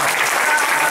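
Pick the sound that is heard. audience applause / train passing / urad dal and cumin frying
audience applause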